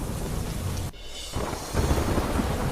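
Heavy rain pours steadily over village areas during a flooding downpour, with a sharp rumble of thunder breaking in partway through, loud and close, no voices.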